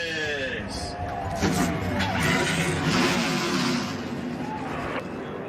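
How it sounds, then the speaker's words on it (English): NASCAR Xfinity Series race cars fire up and rev together, a loud, dense engine roar that swells and holds, with a voice heard over the engines. "start your engines!"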